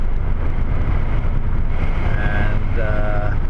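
A car drives on a snow-covered winter road at about 80, with a steady, loud rumble of engine and road noise inside the cabin and faint tonal whines near the end.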